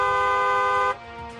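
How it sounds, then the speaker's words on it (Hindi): A single sustained car horn blares loud and close for about a second, then cuts off, leaving faint background noise. "सावधान करने के लिए हॉर्न बजाएं"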